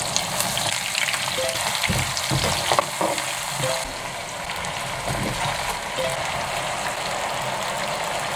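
Pork bones frying with onion in a pot for Korean pork bone soup, making a dense sizzling hiss. Stirring clatter and knocks come through in the first half, then the sizzle carries on steadily.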